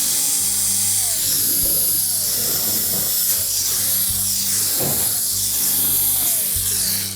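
A power drill spins out 1/4-inch hex head screws from a GE range, with repeated brief whirring bursts under a constant loud hiss.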